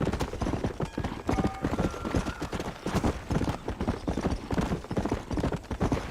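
Horse hooves clip-clop steadily in Red Dead Redemption on Xbox One X, a brisk rhythmic trot of repeated hoofbeats close and loud throughout, with faint background tones.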